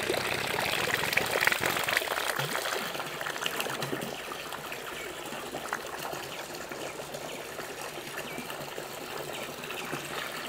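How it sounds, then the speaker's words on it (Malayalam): Water from a submersible pump runs through a filter and splashes into a fish tank, a steady trickling and gushing stream that continues unbroken and fairly close, with faint clicks over it. "ഇതിലെ സമ്മർസൽ പമ്പിൽ നിന്നും വരുന്ന വെള്ളം ഫിൽറ്റർ ചെയ്തിട്ടാണ് ഇതിലേക്ക് ചാടുന്നത്."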